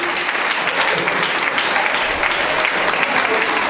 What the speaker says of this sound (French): On acclame les frères.